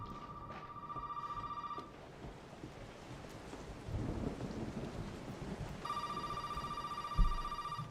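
A telephone rings in a video game in two long bursts of a bright electronic trill, separated by a pause, over a steady backdrop of rain and rumbling thunder.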